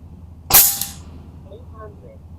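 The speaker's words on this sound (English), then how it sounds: "We'll go just to the right of the one I just shot." A single sharp, loud crack from a SnowPeak P35 air rifle firing H&N hunting pellets, decaying quickly over a low steady background hum.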